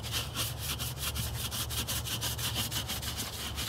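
A Weber kettle grill is scrubbed with a piece of pork belly fat, producing steady, rhythmic back-and-forth rubbing strokes, close and continuous, with no voices.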